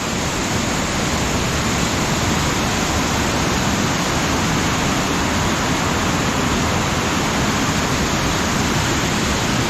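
Powerful water rushes steadily and loudly somewhere in Norway, a dense, unbroken roar that fills the whole stretch with no voices or pauses.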